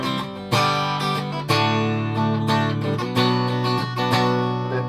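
A 1984 Yamaha SG200 electric guitar, both original pickups split to their inner single coils, rings out a series of bright strummed chords, each new strike sustaining into the next, played alone and close.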